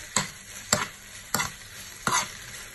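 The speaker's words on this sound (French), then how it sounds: "Je mélange." Onion cooked with honey in a frying pan, stirred in four distinct scraping strokes at a steady rhythm, close and moderately loud over a faint sizzle.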